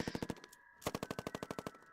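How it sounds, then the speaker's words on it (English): Gunfire sound effect in a horror story narration: rapid machine-gun bursts of evenly spaced sharp cracks, a short burst, a brief pause, then a longer string, fairly quiet and with no voice over it. "More gunfire, just outside the door now."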